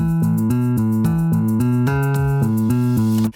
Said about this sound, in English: but when I turn it on, all the notes become much more distinct.